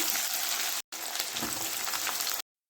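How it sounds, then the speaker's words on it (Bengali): Chopped onions fry in mustard oil with dried red chillies, cumin, bay leaf and whole garam masala, a loud steady sizzle close up, broken by a brief cut and ending abruptly. "পেঁয়াজটা ভালো মতো ভাজা হয়ে গেছে"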